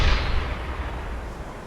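A single heavy deck-gun blast in the submarine game UBOAT, fired at a ship's conning tower, a loud close boom that rolls off into a fading rumble.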